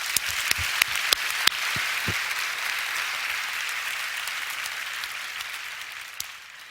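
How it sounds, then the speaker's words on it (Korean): Congregation applause at a prayer meeting, starting with a few sharp, distinct claps that swell into a sustained, moderately loud wash of clapping, then slowly thins toward the end. "박수 한번 해주세요."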